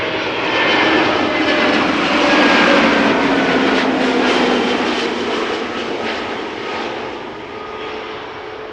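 An EasyJet Airbus A320neo jet airliner arriving from Dubrovnik at Amsterdam Schiphol Airport roars loudly and close by, a broad engine rush that swells and then slowly fades as it passes.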